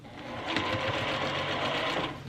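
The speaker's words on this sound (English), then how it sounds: "Now I'm just going to continue sewing." A sewing machine stitches quilt sashing in one short fast run, its needle chattering in a rapid even rhythm close by, with no talk.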